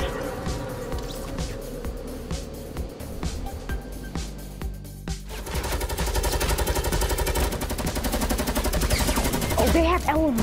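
Light machine gun fire in Fortnite rattles in a long, continuous, close stream of rapid shots that builds louder toward the end, with a player speaking over it.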